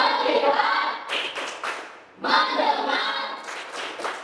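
Classroom group clapping game in an Islamic jurisprudence lesson, students clapping together in rhythmic bursts and patterns with short pauses between phrases, close and lively.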